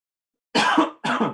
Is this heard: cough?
yes